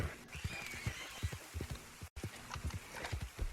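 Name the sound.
horse in Red Dead Redemption 2 video game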